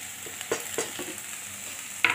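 Crushed garlic and onion frying in a pan, a steady sizzle broken by a few sharp scrapes and clinks of a spoon being stirred through, close and clear with no voices.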